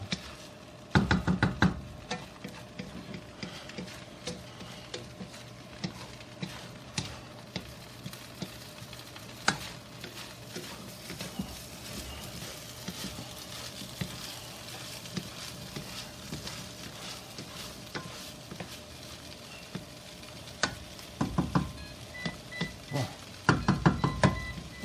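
Mushroom fried rice stirred and broken up in a pan: repeated sharp knocks and scrapes of a utensil against the pan over a soft sizzle, near and irregular, with brief voices at the start and end.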